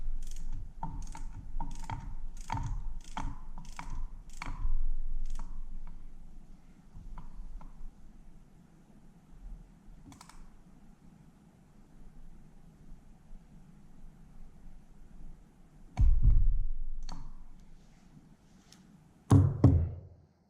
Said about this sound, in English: So I can just go ahead and tighten that to 10 Newton meters.